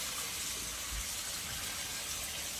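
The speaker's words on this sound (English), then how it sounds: "What you're going to need is some hot water in the sink" Hot water gushes steadily from a tap into a sink in a continuous, even rush that neither builds nor fades.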